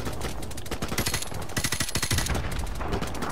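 Rapid automatic gunfire from a Call of Duty Modern Warfare Remastered match, loud and dense with repeated bursts of shots that swell midway, with no talk over it.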